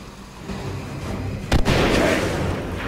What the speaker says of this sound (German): Und wir werfen jetzt zum ersten Mal unsere Granate